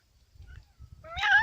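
A cat meows once, a short clear call near the end, preceded by faint rustling and low background noise outdoors by sand dunes in Mexico.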